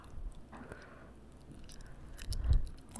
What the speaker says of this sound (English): You don't want me to chew gum?